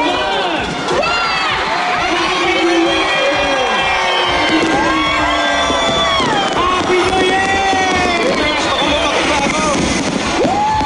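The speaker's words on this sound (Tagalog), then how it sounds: "Nagdiwanag ang kalangitan sa mahigit 10 minutong fireworks show" A New Year countdown fireworks show in the Philippines, with dense crowd cheering, whistles and babble filling the air throughout, and fireworks blending into the loud, continuous crowd noise.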